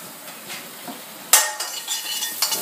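Butter and shallots sizzle softly in a pan while making a sauce from veal shank drippings, with a sharp utensil clink partway through followed by scraping and stirring against the pan.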